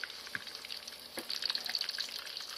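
Sun-dried eel deep-frying until crispy in hot oil, a steady close sizzle and crackle with bright bursts of spitting fat, running without pause.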